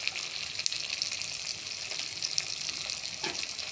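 Spices fry in a pan for a Bengali puti fish curry, a moderate steady sizzle with light stirring taps and a few watery splutters, fairly close and without speech.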